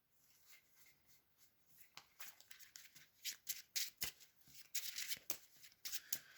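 Yu-Gi-Oh playing cards shuffled by hand during a tournament duel, a soft rustle building into sharp riffling bursts and crisp flicks that grow louder toward the end.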